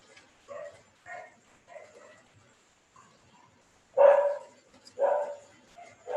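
A dog barks repeatedly in the background of an indoor online class, a series of short, separate barks that start moderate and grow louder and closer toward the end.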